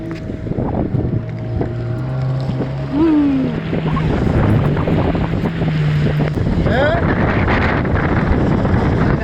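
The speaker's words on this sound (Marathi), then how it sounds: "तर आता आपली बोट फिरली" A boat swings around on open sea during a dolphin safari at Harihareshwar, its motor droning steadily beneath heavy wind buffeting the microphone, with people talking nearby throughout.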